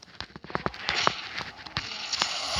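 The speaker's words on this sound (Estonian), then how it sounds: "Pauk. Granaat sisse." A grenade goes off in the Modern Combat 5 video game, a burst of sharp crackling pops and bangs crowded into a couple of seconds, loud and close.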